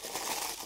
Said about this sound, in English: Just take all the plastic packaging out.